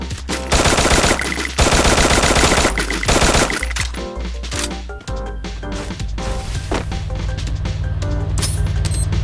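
Rapid gunfire in the mobile battle royale game Free Fire, loud bursts of automatic shots in dense volleys with brief pauses, close and continuous across the stretch.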